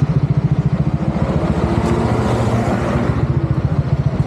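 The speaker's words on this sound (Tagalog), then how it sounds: "Ito yung mga motor namin guys." Motorcycles idle close by at a roadside stop in Itogon, Benguet, their engines throbbing in a loud, steady, rapid rhythmic chug with no talk.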